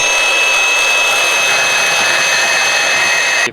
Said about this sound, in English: Portable bandsaw, cutting.